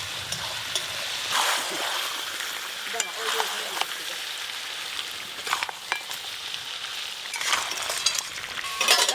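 Masala paste hits half-boiled mutton in a hot pot, and a steady sizzle rises while a spoon stirs with repeated scraping strokes and occasional soft clinks, moderately close.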